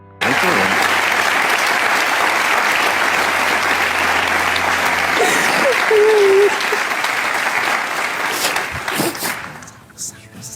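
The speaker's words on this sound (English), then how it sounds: "they're clapping" Applause and clapping from a crowd play back steadily and fairly loud for about nine seconds, fading out near the end, with faint speech mixed underneath.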